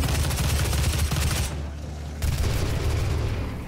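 DOOM shotgun and machine gun fire, loud and continuous rapid bursts with heavy booms, a brief lull in the middle before the shooting resumes close and dense.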